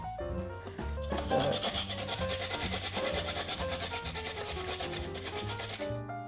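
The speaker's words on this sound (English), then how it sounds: "I'm going to grate it with this little tool" Fresh ginger rubbed against a small hand grater in rapid, even strokes, a rhythmic rasping scrape that runs alone and fairly close over background music.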